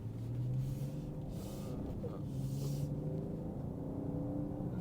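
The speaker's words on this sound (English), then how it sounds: "When you put your foot down and when you rev it up, it sounds actually really nice" A 2023 BMW 540i M Sport with a six-cylinder engine revs up, giving a steady, moderately loud drone that rises and settles, heard close, with no talking.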